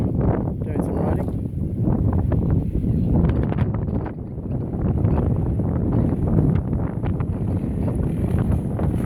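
Strong outdoor wind buffets the microphone on a riding trip in hilly country near Christchurch, a loud continuous rumbling roar that swells and dips slightly without a break.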